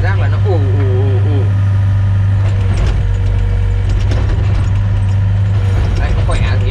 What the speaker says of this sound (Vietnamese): Động cơ con này thì mình làm cảm giác nó ù